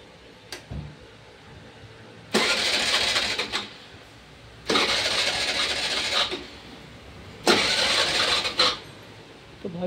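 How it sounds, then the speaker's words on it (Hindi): A TVS Jupiter scooter with an HT coil fault is cranked three times, each a harsh, whirring two-second burst of the starter that dies away without the engine catching, separated by short quiet pauses. "तो भैया एक बार करते हैं स्टार्ट उसको।"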